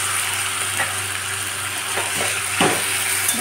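Marinated chicken sizzles and fries in a pan with softened onion and tomato, a steady hiss with occasional stirring scrapes, close and continuous with no talking.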